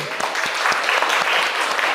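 An audience claps after a first-aid recovery position demonstration, a short burst of brisk, steady applause from a group close by, filling the whole moment.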